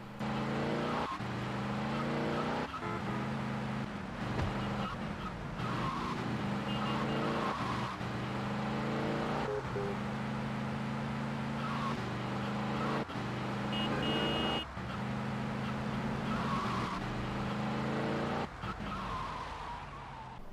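Bloodring Banger, a racing car in GTA Vice City, drives with a loud continuous engine drone that climbs and drops in pitch through gear shifts, with brief tire squeals over about twenty seconds.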